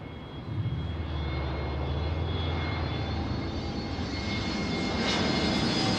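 An Airbus A321neo jet airliner arriving at Seattle roars steadily and loudly, its broad engine drone rising in the first half-second and holding strong throughout, with a faint high whine riding on top and no voices.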